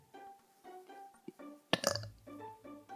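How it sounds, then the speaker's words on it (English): A single loud, guttural burp bursts out midway through a quiet stretch of faint tonal background sound, alone and fairly close. "Burping!"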